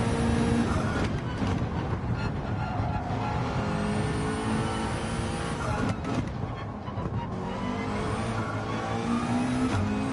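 Gr.4 race car in Gran Turismo 7 racing hard, its engine droning loud and steady for the whole stretch, tyres squealing in brief bursts as it corners in a trophy race.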